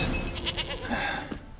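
A goat in The Witcher 3: Wild Hunt bleats with a few short, wavering cries over a steady backdrop of game ambience and music.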